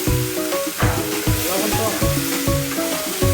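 Food roasting in a hot pan sizzles and crackles steadily, with rhythmic knocks and scrapes of stirring repeating every half second or so, close up with no talking.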